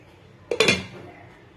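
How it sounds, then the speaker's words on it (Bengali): Spoon stirring chicken curry in a metal pot before covering it, heard as a few sharp close metallic clinks and scrapes in a quick burst against quiet background. "এবার জলটা দিয়ে একটু নাড়াচাড়া করে ঢাকা দিয়ে দেব।"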